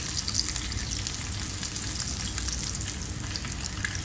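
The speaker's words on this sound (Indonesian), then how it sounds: "Dan kalau boleh gorengkan ni, kita jangan selalu baliklah." Fish fillets frying in hot oil for fish and chips produce a steady, dense sizzle with crackling that runs continuously and fairly loud throughout.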